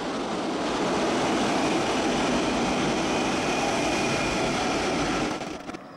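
A locomotive-hauled double-decker RE3 regional train with a class 112 engine and double-deck coaches passes close by, a loud sustained rumble and rush of wheels that holds steady and then cuts off abruptly.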